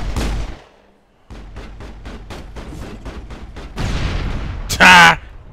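Gunfire in the Mass Effect video game, a rapid run of sharp evenly spaced shots after a brief pause, followed by a louder burst and a bright high-pitched blast.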